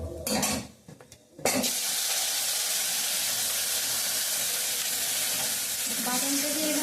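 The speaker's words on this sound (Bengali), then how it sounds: "বাদামটা দিয়ে এভাবে নাড়তে থাকবে" Peanut paste hitting a mustard-seed and dry-chili tempering, with a sharp burst of clatter at the start, then a steady loud sizzle and frying hiss as it is stirred, with occasional scrapes.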